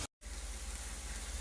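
An egg fries in a hot pan with a loud, continuous sizzle heard close up. The sizzle drops out briefly at the start, then carries on unbroken with no voices over it.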